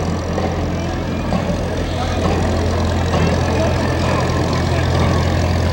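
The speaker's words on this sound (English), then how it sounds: "And we even have a cement truck coming." A cement mixer truck engine rumbles steadily with a low drone and mechanical clatter at a parade, continuous and fairly loud throughout.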